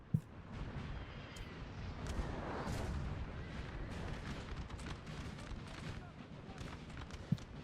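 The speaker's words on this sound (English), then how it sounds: "We got a volley right into France's face" Massed musket volleys in a Napoleon: Total War battle between large armies crackle as a continuous, distant rattle of gunfire, with a couple of sharper booms standing out at the start and end.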